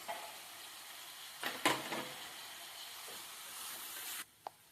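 Chana dal sizzles and hisses in hot oil in a pan for cabbage fry, a steady soft crackle with a brief louder burst of frying midway before cutting off, then a single small clink.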